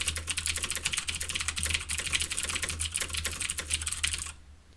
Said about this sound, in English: It's got blue switches in it, so it's way too noisy.